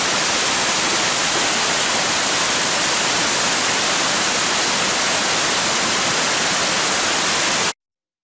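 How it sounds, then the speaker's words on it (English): Loud, steady rush of hot spring water crashing out of a pool over rocks in the desert, a continuous broadband roar close by that cuts off abruptly near the end. "The hot water is quite loud, where it comes crashing out of the hot springs pool down over the rocks"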